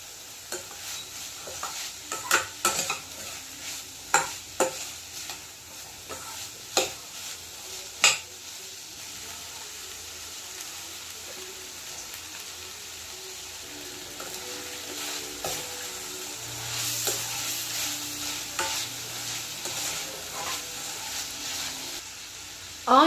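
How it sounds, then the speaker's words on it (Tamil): Vegetables sizzle and fry in hot oil in a pan for fried rice, with a steady hiss and scattered scraping clicks of stirring throughout, loudest in the first few seconds and again toward the end. "ஆயிலில் நல்லாவே இந்த மாதிரி ஃபுல்லாக கம்ப்ளீட்டாக நான் ரோஸ்ட் ஆகிற மாதிரி காய்கறியை நல்லா வதக்கிக்கிறேன்."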